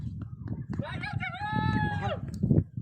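A chicken, a rooster, crows once in a long, clear cock-a-doodle-doo over a low murmur of background voices and rustling.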